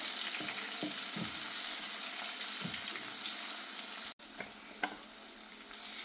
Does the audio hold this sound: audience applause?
no